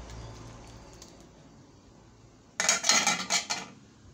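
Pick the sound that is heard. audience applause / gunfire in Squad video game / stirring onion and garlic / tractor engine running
stirring onion and garlic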